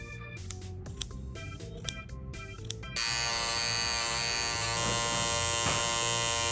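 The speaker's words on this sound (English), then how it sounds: "I'll carve out the textured details." An electric carver cuts into a tufted cat scratcher rug, a loud steady buzzing drone that starts suddenly after some quieter clicks and rustles, then holds close and continuous to the end.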